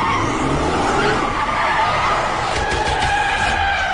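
A truck drifts through a TV drama scene with its tires skidding and squealing in a sustained, loud, continuous screech that holds steady throughout.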